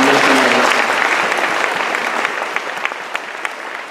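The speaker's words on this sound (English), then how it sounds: "Let's give a big round of applause for all of you who are here" Applause from an audience at a Girls on the Run Sneaker Soiree fundraising event, a dense steady wash of clapping that thins out toward the end with a few individual claps standing out.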